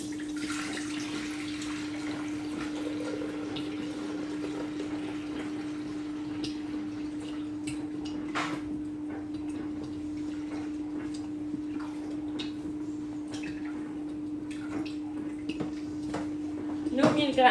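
Milk poured steadily from a carton into a Thermomix TM6 bowl, a continuous soft liquid stream running under a steady hum, with someone speaking French over it.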